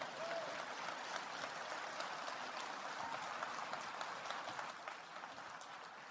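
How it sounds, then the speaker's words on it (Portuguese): Sustained applause from an audience at a talk, dense and steady clapping throughout without speech, easing slightly toward the end. "Um aplauso"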